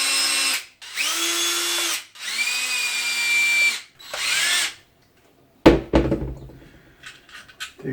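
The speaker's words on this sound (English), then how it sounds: "Hey, I got a drill right here." A power drill whirs in four short bursts removing screws from a DeWALT battery charger, pitch rising and falling, followed by clattering knocks as parts are handled nearby.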